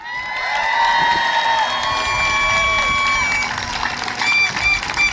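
Rally crowd at a labor union march cheering and whooping with high shrill voices, sustained and loud throughout, a dense wash of noise with possible applause underneath.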